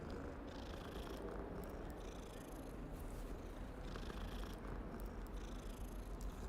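A cat purrs steadily and closely in Hogwarts Legacy, a continuous low rumbling purr that swells and eases in slow breathing cycles, heard alone without talk.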